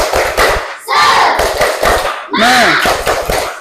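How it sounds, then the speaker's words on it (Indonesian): A class of students performs a rhythmic spirit clap with shouted cheers, several loud bursts of clapping and chanting voices close by, with an adult voice speaking between them. "semuanya tepuk semangat"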